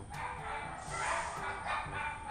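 Dogs bark at 2:30 at night, chasing off another dog that has entered their territory, with short repeated barks heard at some distance through a room.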